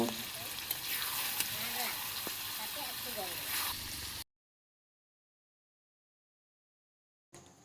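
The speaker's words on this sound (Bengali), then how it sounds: "এরপর মাংসটিকে প্রায় আট থেকে দশ মিনিট ভালো মতো কষিয়ে নেব এখন ভেজে রাখা আলুগুলো দিয়ে ভালো মতো মিশিয়ে নেব" Chicken curry with fried potatoes sizzles and is stirred in a pan, a close steady frying hiss with spatula scrapes for about four seconds, then silence and a brief return at the end.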